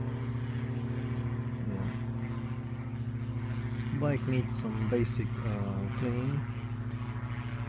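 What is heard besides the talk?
airplane flying over near an airport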